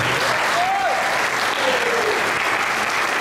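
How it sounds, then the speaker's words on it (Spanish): A church congregation applauds in praise during a Spanish-language anniversary service, steady dense clapping filling the room throughout with faint voices mixed in. "Denle ese aplauso al Señor."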